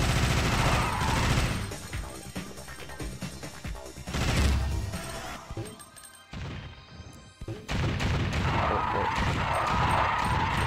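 Grenade blasts and gunfire in the video game Alien Shooter: loud bursts of crashing explosions and rapid shots, with a brief lull midway before the barrage resumes.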